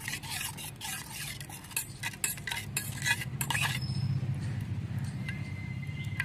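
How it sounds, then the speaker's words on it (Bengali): A spoon stirs a paste of turmeric, cumin, coriander and chili powder with water in a bowl, a run of scraping, clinking strokes that fades after a few seconds into a steady background hum. "চামচ দিয়ে নেড়ে চেড়ে মশলার পেস্টটা তৈরি করে নিচ্ছি"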